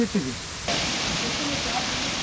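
After a brief voice, a cold mountain waterfall in Araku takes over as a dense, even rush of falling water, loud and continuous at close range.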